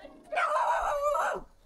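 A single drawn-out dog vocalization, more a whining howl than a sharp bark, rises suddenly, holds for about a second and then fades, heard outdoors in a damaged Philippine neighborhood.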